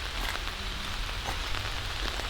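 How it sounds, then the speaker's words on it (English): Steady rain falls in Wissahickon Valley Park, a dense, even hiss of drops on leaves and ground that stays close and constant throughout. "it never stopped raining the whole time"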